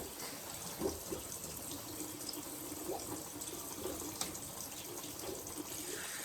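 Steady water running from a salon sink sprayer while hair is washed, a continuous close hiss with faint splashing and no talking.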